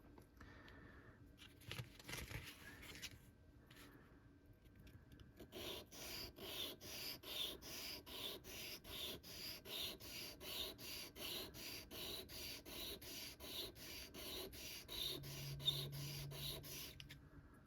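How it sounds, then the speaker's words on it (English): A Colt 1911 pistol part is polished by hand with a rapid, rhythmic rubbing stroke, a faint, close, raspy back-and-forth that settles into a steady pattern after a few seconds of softer handling. "we're going to polish in the direction of travel"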